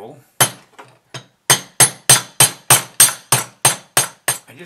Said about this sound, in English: I'm going to use a C-clamp as a blacksmith's